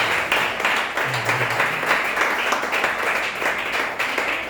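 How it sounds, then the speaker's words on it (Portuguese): Congregation in a church service clapping together, a full, continuous round of applause with steady rhythmic claps, loud and close, with a voice briefly heard beneath it. "Aplauda Jesus Cristo."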